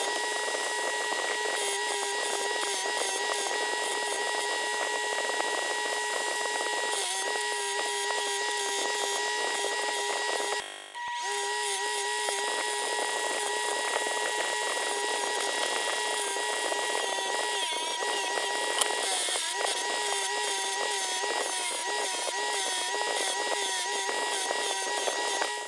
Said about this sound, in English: Almost all the hardware was not rusty at all, so I just opted to use the wire brush on it.